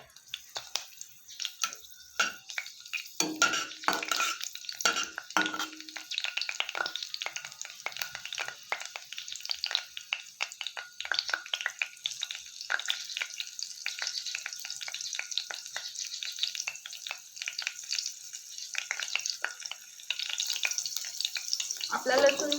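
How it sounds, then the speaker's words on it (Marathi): Garlic frying in hot oil in a wok, a steady close crackling sizzle with bursts of popping that carries on throughout, occasional stirring scrapes, no talk. "इथे मी कढईत तेल गरम करत ठेवलं होतं, आता त्याच्यामध्ये मी हा लसूण घालून घेते"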